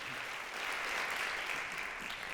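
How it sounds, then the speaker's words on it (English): Steady applause from an audience at an arts funding launch event, a continuous wash of clapping at moderate distance with no voices. "I want to give them a round of applause."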